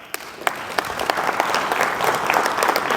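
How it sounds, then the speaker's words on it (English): Audience applause at a community Hope & Healing Tour gathering in the Dan River Region, a dense, steady burst of many hands clapping that builds quickly and stays loud throughout, with no speech over it. "So a round of applause for yourselves."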